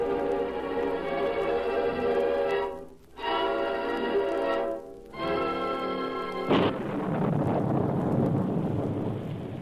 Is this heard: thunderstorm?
yes